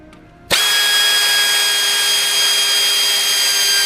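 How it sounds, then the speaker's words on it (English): Power tool unscrewing a ring of outer bolts on a Nissan Sentra, starting abruptly after a brief quiet moment and then running as a loud, steady high-pitched whine with no talking. "we're gonna also remove this ring of outside bolts"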